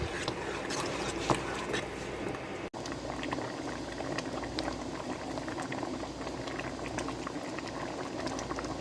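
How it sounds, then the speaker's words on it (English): Dill pickle relish of chopped cucumbers and spices boils steadily in a pot on a stovetop, a dense, continuous bubbling and popping at moderate loudness with no voices over it. "Bring it back to a boil for 10 minutes."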